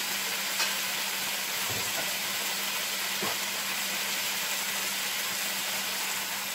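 Chicken cooks in a dry frying pan with no oil, giving a steady, soft, even sizzle and hiss throughout, with a few faint clicks and taps from handling.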